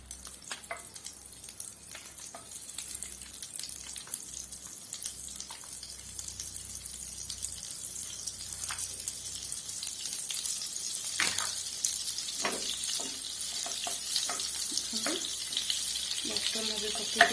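Paneer frying in butter in a pan gives a steady, soft sizzle throughout, with scattered brief clinks and scrapes from stirring growing denser toward the end; no voice is heard.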